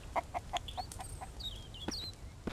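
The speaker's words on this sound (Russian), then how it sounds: "Вон курицы ходят." Chickens cluck in a short run of clipped calls in the survival video game Mist Survival, with a few higher chirps, heard fairly near over a quiet background and no talk.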